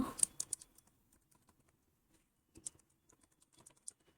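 Bursts of computer keyboard typing while code for a linear regression model is entered, with a quick flurry of keystrokes at the start, a pause, then scattered taps and a second cluster, close and fairly quiet, no voices.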